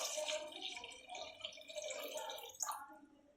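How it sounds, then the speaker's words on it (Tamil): Water pours into a pan of tomato kurma on the stove, a soft, close splashing and trickling with a brief louder splash near the end. "இப்போ கொஞ்சமாக நம்ம தண்ணி சேர்த்துக்கலாம்."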